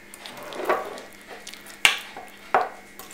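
Spoon working pumpkin spice scone batter with baking soda in a bowl gives three quiet, separate knocks and scrapes, close by, with gaps of near silence between them.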